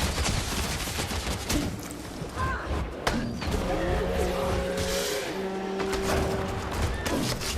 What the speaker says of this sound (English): Go back to our longbow. And a barrage.